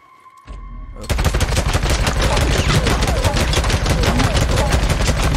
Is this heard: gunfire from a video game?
yes